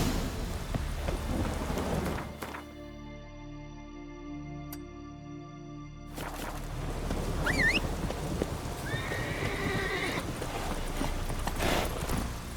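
Hooves of a horse clip-clopping in The Witcher 3 as it is ridden through a game world, steady rhythmic hoofbeats under rain and a low rumble, with a short musical swell in the middle.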